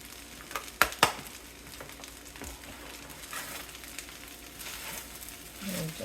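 Cut-up pork frying with fried rice in a pan over a medium burner, a steady soft sizzle throughout with a couple of sharp utensil clicks near the start and a brief stirring scrape toward the end.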